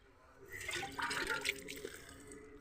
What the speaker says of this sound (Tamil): இந்த தண்ணியை வேருக்கு ஊற்றினா அவ்வளோ செடிங்களுக்கு நல்ல ஸ்ட்ரென்த்து.